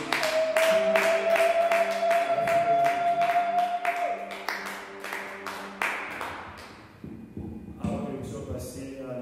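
A church congregation claps in a steady, rhythmic beat for several seconds while sustained tones and other sounds play beneath it, and then the clapping breaks up into scattered applause near the end.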